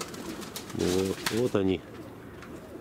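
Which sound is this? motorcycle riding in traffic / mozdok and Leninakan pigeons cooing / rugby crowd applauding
mozdok and Leninakan pigeons cooing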